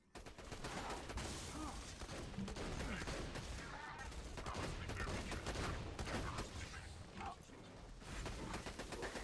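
Dense, rapid gunfire from a Torque shotgun in a battle royale-style tournament game keeps up throughout, loud and continuous with blasts and impacts overlapping in a chaotic firefight.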